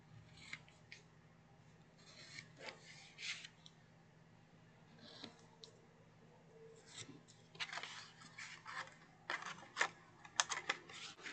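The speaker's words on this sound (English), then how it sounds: "Everywhere we have a score, we're going to angle cut on both sides of that score to remove that piece." Scissors angle-cutting paper on both sides of scored lines for a mini paper bag craft, giving soft close snips and rustles in irregular bursts that grow busier toward the end.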